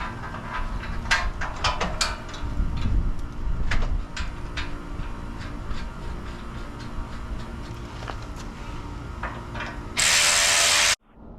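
A ratchet tightening car bumper bolts, giving repeated sharp clicking bursts over a steady background hum, close by, ending in a loud hissing burst and then a sudden cut.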